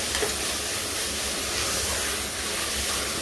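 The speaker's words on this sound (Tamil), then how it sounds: "தக்காளி ஒரு 2 வதங்கட்டும்." Tomatoes sautéing in a pan for coconut rice, giving a continuous soft sizzle and hiss close up, steady throughout with no talking.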